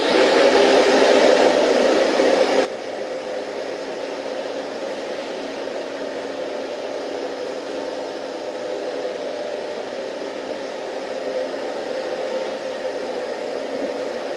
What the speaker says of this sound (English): now we're going to see how many it takes to actually get the dirt up with this Dyson